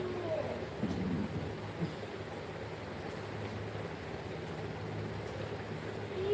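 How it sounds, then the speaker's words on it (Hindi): Heavy monsoon rain falls in Mumbai as a steady, faint broadband hiss with occasional low rumbles, continuous throughout and without clear speech. "बस मुंबई में बारिश बहुत हो रही है"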